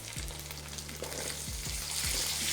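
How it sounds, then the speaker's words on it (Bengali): Potatoes frying with onions in a pan for masoor dal with bottle gourd, a continuous bright sizzle with several low scraping thumps of stirring spread across a short stretch. "এরপর আলুর সাথে এটাকে ভালো করে ভেজে নিন"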